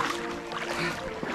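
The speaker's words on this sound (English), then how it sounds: "Wading through the damn swamp." Someone wades through swamp water during an eight-hour adventure race. Sloshing and splashing stay close and steady throughout the short stretch, with no voices.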